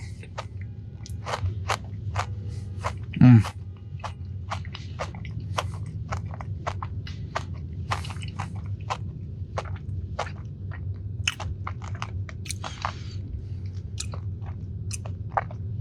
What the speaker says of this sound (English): I really, really do appreciate the crunch that you get from this.